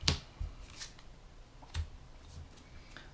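Playing cards from a tabletop card game are shuffled quietly nearby, with soft riffles and a few sharp flicks and taps spread across a few seconds.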